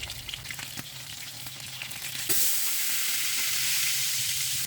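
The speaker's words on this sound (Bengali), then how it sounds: "পিসটাকে ভালোভাবে ভেজে নিব এপাশ ওপাশ করে।" Pieces coated in turmeric and salt fry in hot oil, a steady sizzle that swells louder and brighter partway through and then holds as a dense, continuous hiss.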